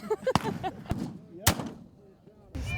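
Buffalo rifles fire at the Matthew Quigley Buffalo Rifle Match, a Montana shooting competition: three sharp, loud, close cracks ring out at uneven intervals, with people talking between them.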